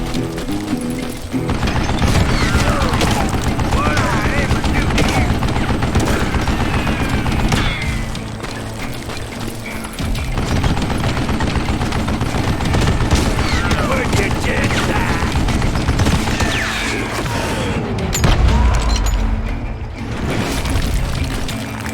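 A mounted gun in Call of Juarez: Gunslinger fires in a dense, sustained rattle of shots, with mechanical clatter beneath a busy, loud mix of game sound that runs through the whole stretch.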